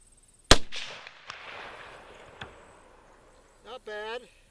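A single sharp, loud report from a Lee Enfield No 1 Mk 3 rifle, early model, close by, followed by a fading echo and brief clicks, then a voice speaking.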